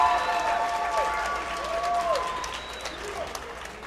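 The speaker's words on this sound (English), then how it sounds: "let's give both fighters a big round of applause" A fight-night crowd applauds both fighters after a three-round amateur bout, a steady wash of clapping and cheering with a few whistles and scattered voices rising through it.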